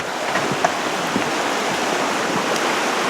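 River rushing beneath a bouncy suspension footbridge in old-growth forest at Mount Rainier, a steady broadband wash of flowing water, close and continuous with no talk.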